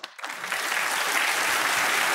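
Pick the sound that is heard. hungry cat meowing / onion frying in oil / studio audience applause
studio audience applause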